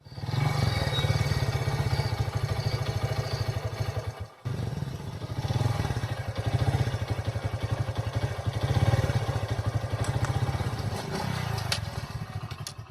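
A scooter ridden through Lajpat Nagar in Delhi, its engine droning steadily and close with a rattling, buzzy tone, dipping briefly once before carrying on at even loudness.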